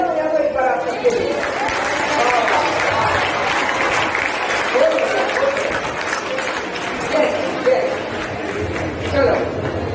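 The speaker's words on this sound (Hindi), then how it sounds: "जोरदार तालियां हो जाए तो एक बार आप सबके लिए।" Students give loud, sustained applause throughout, dense and steady from start to finish, at a career counselling programme on a school campus, with a few voices chattering underneath.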